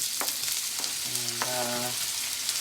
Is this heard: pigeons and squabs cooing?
no